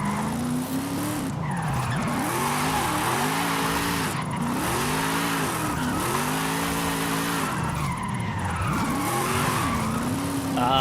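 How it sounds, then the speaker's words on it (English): A Chevrolet Corvette drifting in the Forza Horizon 5 racing game, its engine note rising and falling in repeated revving arcs while continuous tire squeal hisses loudly throughout, with no pauses. "This Corvette does drift very nice."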